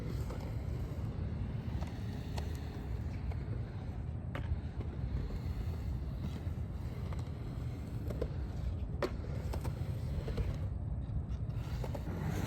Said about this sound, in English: Notice the quietness of the Dragon wheels.